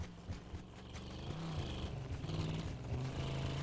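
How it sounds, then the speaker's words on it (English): A truck engine in the Black Ops 4 Blackout battle royale game drones steadily and builds slightly as the vehicle drives, a continuous moderately loud rumble with no talk over it. "You heard the truck, right?"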